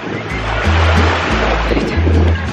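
Sea waves wash onto a beach in Cyprus, a steady loud rushing surf with rolling low swells that rise and fall continuously, close by and filling the scene without speech.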